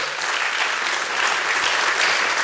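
Audience applause closing a panel discussion on human trafficking, a dense, steady wash of many hands clapping close and loud with no talk over it.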